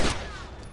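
A short burst of gunfire in The Last of Us, a loud sharp crack at the start that decays over under a second, with no talk.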